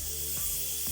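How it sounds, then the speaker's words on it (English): Hairspray sprayed onto hair as a steady, continuous aerosol hiss that lasts the whole moment without a break. "I like to pull my head down and spray it"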